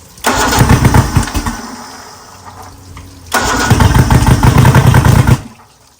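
A homemade race outboard motor fires and revs loudly for about a second and a half, drops to a rough lower run, then surges back up to a loud sustained roar before cutting out.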